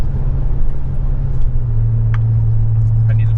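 Steady low engine drone and road rumble from a lifted pickup truck on 38-inch tires cruising at 65 mph with a trailer in tow, loud and constant with a slight rise in pitch partway through.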